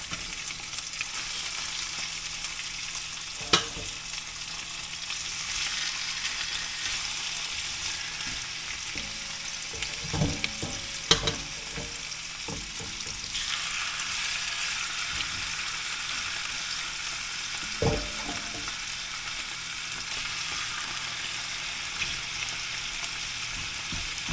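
Chicken thighs crowded into a pan sizzle and fry steadily, a continuous bright hiss with occasional clinks and scrapes of a utensil against the pan.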